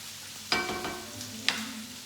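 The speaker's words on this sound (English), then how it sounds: "I'm gonna give it a stir" Lamb kavurma sizzles in a pot while a spoon stirs it, two distinct scraping knocks against the pot over a soft, continuous frying hiss.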